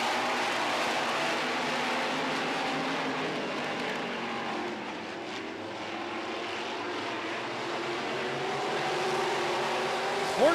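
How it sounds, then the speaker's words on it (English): Midwest Modifieds race cars at speed on a track, a continuous loud engine roar from a pack of cars that swells and fades slightly as they pass. "We're racing Midwest Modifieds."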